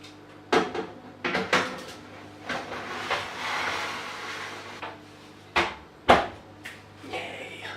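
A kitchen oven door is handled while nachos go in to cook, with several sharp clunks and thuds of the door and rack opening and closing, separated by quieter rustling against a low steady hum.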